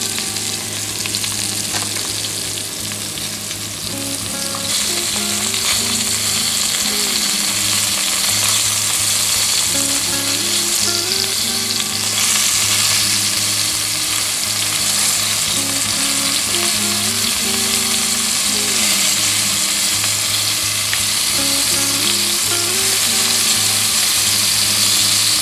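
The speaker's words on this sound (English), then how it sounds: "add in our onions and celery and garlic." Onions, celery and garlic sizzle steadily in a pan for a venison stew, a loud, continuous frying hiss with faint stirring beneath, no talking.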